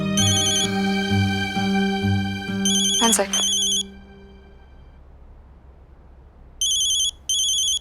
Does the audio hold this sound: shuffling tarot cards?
no